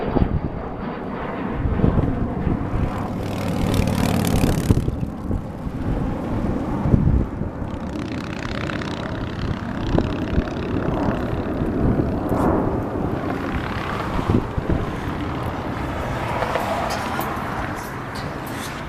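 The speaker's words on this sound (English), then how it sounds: "That aircraft we saw was not the Alaska, it's a business jet." A business jet at Fresno Yosemite International Airport gives a broad, steady roar for about twenty seconds with gusty wind buffeting the microphone, rising and falling a little as the aircraft moves.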